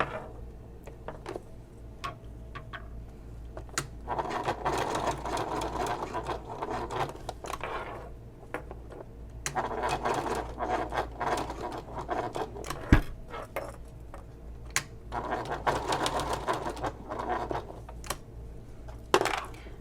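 Sewing machine top stitching over earlier stitching on the flap and handle of a Mercury messenger bag, running in several bursts separated by short pauses, close and moderately loud.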